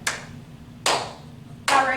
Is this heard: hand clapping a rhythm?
yes